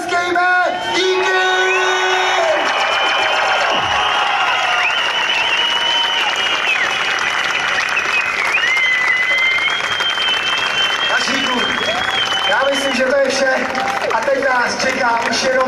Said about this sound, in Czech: a za to si zatleskejme